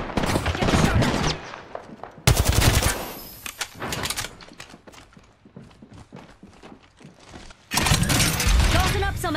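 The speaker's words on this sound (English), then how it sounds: "Some flunkers shooting at me" Enemy gunfire in an Apex Legends ranked match, loud bursts of rapid automatic shots alternating with quieter single cracks and in-game sounds, with a voice talking over parts of it.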